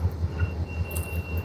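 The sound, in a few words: passing train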